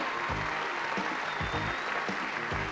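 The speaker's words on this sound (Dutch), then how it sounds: "De eerste die ik u mag aankondigen onder een geweldig applaus is Marleen de Buizer." Game show studio audience applauding a contestant as she is introduced: dense, steady clapping with rhythmic bursts throughout, fairly distant and moderately loud, with no talk over it.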